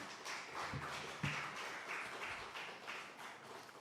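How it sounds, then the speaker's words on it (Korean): A church congregation at a Wednesday prayer service claps to welcome two missionaries; a fairly quiet, steady patter of many hands runs throughout, with a few sharper individual claps standing out early on. "우리 두 분 선교사님 앞으로 잠시 모실 때 큰 박수로 한번 환영해 주시길 바랍니다."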